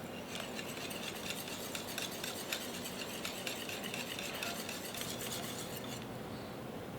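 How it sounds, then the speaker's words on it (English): A whisk beats lumpy blintz batter with melted butter in a bowl, a steady quick rhythm of light scraping and clinking close up, with no voices. "I'm just going to work this batter lightly to get all the lumps out"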